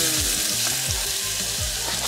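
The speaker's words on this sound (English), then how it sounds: "I just love when it sizzles like that." Loud, continuous sizzling of garlic frying in a hot pan, close up, with no talking.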